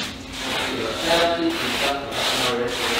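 A brush is painted across a wall in a warehouse, making repeated rough rubbing strokes roughly every half second to a second, close and fairly loud, with no other sound.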